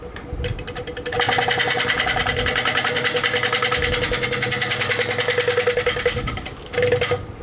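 A lathe gouge cutting a spinning crotch wood platter, making a loud close rapid rhythmic chatter that pulses with each rotation for several seconds, with brief gaps before and after the cut.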